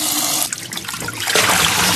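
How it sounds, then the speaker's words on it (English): Cold tap water runs steadily over fresh herbs such as basil held under the stream, a loud close splashing rush whose tone shifts briefly as the herbs move through the flow. "rinse them in cold water 3 times"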